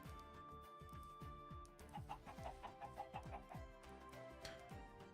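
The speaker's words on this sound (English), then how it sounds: "These snow chickens look like Polish chickens." A flock of cold-variant snow chickens in Minecraft keeps up a rapid, overlapping run of short clucks, quiet and steady with no voices.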